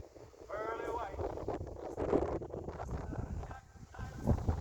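Wind rumbles and buffets against the microphone in steady low gusts, with faint voices underneath, on a mountainside at Tsaghkadzor, Armenia.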